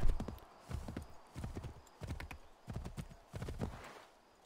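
Horse hooves clip-clopping in Assassin's Creed 3, a steady rhythmic gallop of repeated hoofbeat bursts, close and clear with no talking over them.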